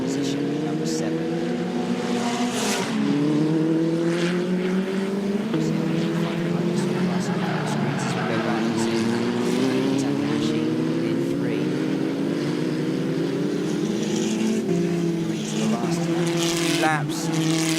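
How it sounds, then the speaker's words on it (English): F3 single-seater race cars circuit the Ningbo track in an Asian Championship race, high-pitched engines whining and sweeping up and down through gears, continuous and loud as several cars pass, with a commentator's voice talking over them. "And then Charles Leong and Yu Kwai racing pretty quickly."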